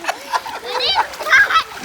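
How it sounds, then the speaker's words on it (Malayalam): Splashing water as someone dips into a pool in Wadi Al Abadlah, Fujairah, brief sloshing bursts under excited nearby talk. "ഒന്ന് വെള്ളത്തിൽ മുങ്ങി ഇവിടെ."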